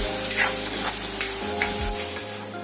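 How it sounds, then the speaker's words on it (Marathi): Steady close-up sizzling and crackling of egg masala paste frying in hot oil over medium heat, with occasional soft stirring scrapes. "ती पण चांगली परतून घेऊ अर्धा मिनिट"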